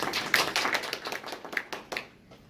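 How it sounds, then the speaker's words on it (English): An audience applauds three seminar speakers at the Asia Pacific Arbitrators Forum, a dense burst of clapping that is loudest at first and then thins and fades out over a couple of seconds. "please give a round of applause to the three speakers."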